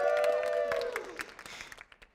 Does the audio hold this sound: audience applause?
yes